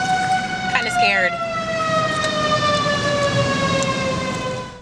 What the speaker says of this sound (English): 28 sirens wailed across Joplin